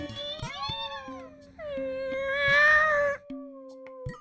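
A voice imitates a cat, producing a string of drawn-out, wavering meows, some rising into a whiny wail, with brief pauses between them.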